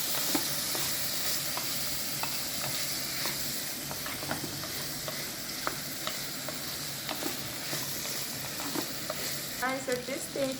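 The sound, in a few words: cubed potatoes frying and being stirred for beet soup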